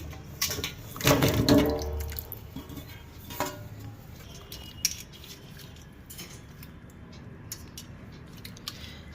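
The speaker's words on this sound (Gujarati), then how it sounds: "લીંબુને પાણીમાં આપણે ધોઈ નાખીએ છીએ" Lemons are sloshed and rubbed in water, with a burst of splashing early on, then quieter drips and light clinks.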